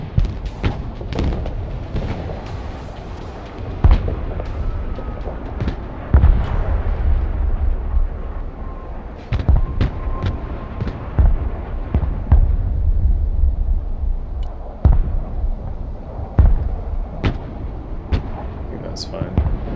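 Artillery barrages land in the real-time strategy game Broken Arrow: a series of sharp booming blasts at irregular intervals over steady battlefield rumble, with a voice talking throughout.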